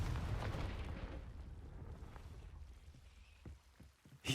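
A Confringo fire spell blasts in a Hogwarts video game, a dull rumbling explosion that is loud at the start and then fades and decays over a few seconds before a sharp final crack.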